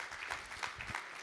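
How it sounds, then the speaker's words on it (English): Brief, faint applause from an audience at a National Reconciliation Week breakfast panel discussion, a soft, distant patter of many hands lasting only about a second. "I'll give Aunty Geraldine a big round of applause."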